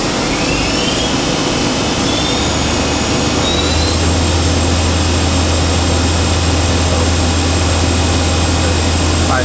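An Okuma MA-50HB 4-axis CNC horizontal machining center with an OSP-U100M control hums steadily and loudly after a gear change for 6,000 rpm, with a deeper sustained tone joining after a couple of seconds.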